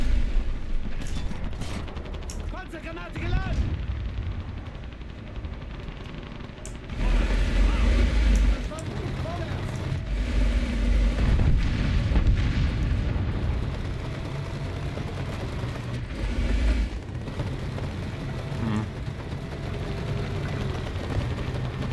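A 2,000-pound bomb detonates in War Thunder amid tank combat: heavy booming blasts and rumbling impacts stand out among scattered gunfire and engine noise, with a voice talking intermittently over the battle.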